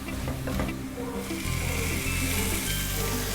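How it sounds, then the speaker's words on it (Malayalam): Tomatoes frying in a pan of masala for a soya chunks fry, stirred steadily, giving a close, continuous sizzle with faint scraping and clinking of the utensil and no talking. "ഈ ടൊമാറ്റോ നന്നായിട്ടൊന്ന് വെന്ത് ചേരുന്നത് വരെ ഇളക്കി കൊടുക്കുക."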